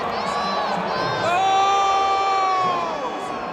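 Boxing arena crowd after a super middleweight title fight, roaring and cheering in a loud, sustained swell with whoops and shouts rising midway, then easing slightly.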